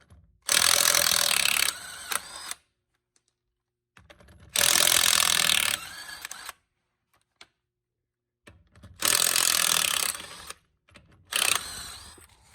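A HYCHIKA cordless impact wrench loosens car lug nuts in three loud hammering bursts of about two seconds each, separated by short quiet gaps, with no voices.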